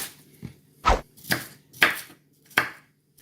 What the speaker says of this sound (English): So we'll chop that, and then we'll just give it another quick chop